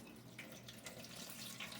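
Split peas are rinsed under a running kitchen tap, a steady soft rush of water with faint splashing of peas, continuous and fairly quiet, with no one speaking.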